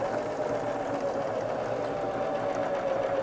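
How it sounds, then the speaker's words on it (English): A Baby Lock Zeal sewing machine stitches at a steady speed, giving a continuous even whir with a fine mechanical buzz that holds at one level throughout, close and alone without talk. "And we will lightly put our foot on the pedal as we begin to sew."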